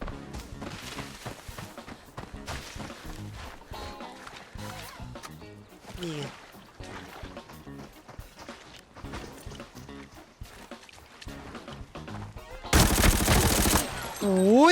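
MP5 submachine gun fire in the shooter game Arena Breakout, with rapid bursts of shots and scattered gunfire throughout, plus a loud, harsh blast of noise near the end.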